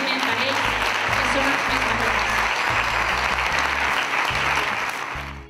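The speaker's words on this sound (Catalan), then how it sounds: "Un aplaudiment per ells." Sustained audience applause after a children's cantata, dense, steady clapping from a large crowd, loud and continuous throughout before tapering slightly at the end, with voices mixed into the clatter.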